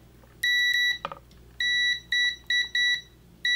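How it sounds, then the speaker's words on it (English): A multimeter beeps during a continuity test while a Boston Acoustics VR960 speaker is being repaired. Several sharp, high, steady tones come in short bursts of uneven length, close and clear, with a small click between them. "I've started to get in the habit of testing continuity before we put things back together"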